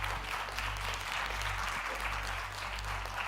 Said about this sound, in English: And also please a big applause for the cameraman, the video man, the music